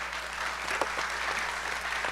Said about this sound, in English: you get a round of applause for all that amazing work